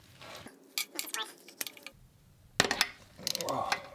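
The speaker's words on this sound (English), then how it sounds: "I'm also employing a little swivel socket here on the end" A ratchet with a small swivel socket works on a Harley-Davidson Ironhead engine, giving several quick bursts of metallic clicking, close and crisp, separated by short pauses.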